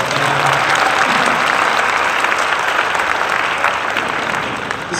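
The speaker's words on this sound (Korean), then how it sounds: "이쯤에서 박수가 나와야 되니까" An audience at a Nu Skin business meeting breaks into loud, sustained applause, a thick continuous wash of clapping that eases slightly near the end.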